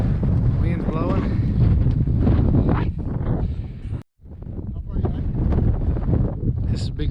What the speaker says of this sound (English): Wind's blowing.